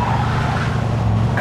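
A speeding car in the Mafia II Definitive Edition driving game on Xbox Series S holds a steady, loud engine drone throughout, with a voice briefly present near the end.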